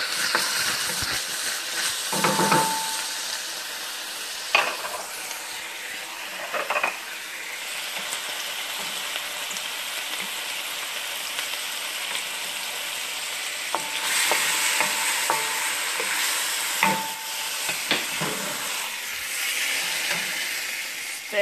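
Beef steak frying in a pan with oil for beef fried rice, a steady close sizzle with hiss and occasional stirring clatters, continuous for over twenty seconds without talk.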